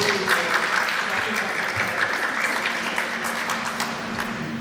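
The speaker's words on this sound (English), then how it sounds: "So I'd like to pause for a moment and give my audience a round of applause." An audience applauding at a community judicial forum, a steady even wash of clapping that holds at moderate loudness for several seconds with faint voices mixed in.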